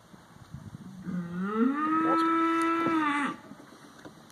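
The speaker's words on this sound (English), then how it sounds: "the cows are roaring out in the field" A single cow lets out a long, loud moo of about two seconds from a farm field, rising in pitch and then holding steady before cutting off. No one speaks.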